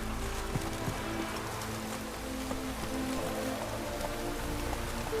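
Continuous rain patters on the ground in The Witcher 3, an even, close hiss of drops with faint low tones underneath, no voices.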